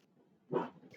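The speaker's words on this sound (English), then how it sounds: "Excuse the dog in the background." A dog in the background lets out a short bark and then a higher yip, two quick sounds within about a second at moderate loudness.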